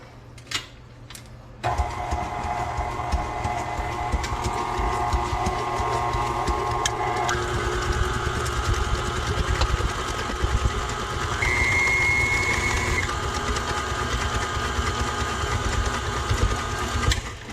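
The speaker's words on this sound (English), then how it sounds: "we are going to puree this all together here" A blender purees pumpkin bread batter ingredients, including baking soda. After a brief quiet start with a couple of clicks, the motor kicks in with a loud, steady whirring drone that shifts pitch slightly partway through and runs to the end.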